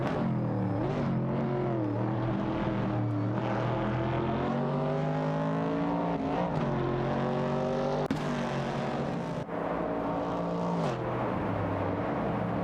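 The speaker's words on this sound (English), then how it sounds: "Sir Ironbot's Ford Mustang Boss and Bluegrass Railfin's Chevrolet Camaro 70 are racing wheel to wheel" Ford Mustang Boss and Chevrolet Camaro 70 race cars running wheel to wheel in a racing video game, engines droning and revving loudly and continuously with shifting pitch, no voices.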